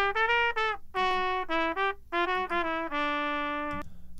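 A trumpet plays a short phrase of separate notes followed by a long held tone, alone and close, thinned by a steep high-pass filter slope removing low end.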